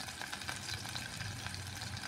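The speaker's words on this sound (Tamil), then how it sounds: "இப்போ நான் வந்து இந்த பூண்டையும் போட்டுக்கிறேன். அதையும் வதக்கிட்டு" Garlic sautéing in hot oil in a pan while cooking ennai kathirikai, a steady close sizzle and crackle that runs unbroken with no voices over it.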